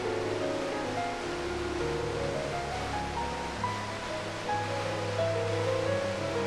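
A waterfall fed by cold glacier meltwater pours beside columns of black basalt in Iceland, a steady, even roar of rushing water with no voices.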